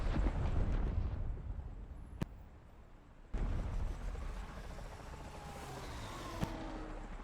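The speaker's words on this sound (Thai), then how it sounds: "เมืองระเบิด" A city blows up in the superhero video game Undefeated, a low rumbling roar with a loud blast near the start, a second sharp burst around the middle, then sustained crackling debris and rumble.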